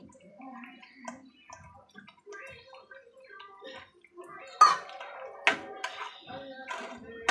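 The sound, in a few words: water being poured into a cooking pot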